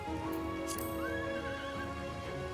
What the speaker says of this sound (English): Get my horsey out.